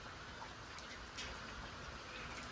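Rain falling outside during a rural monsoon evening, a steady faint hiss of drops on surfaces with scattered closer patters, continuous and without voices.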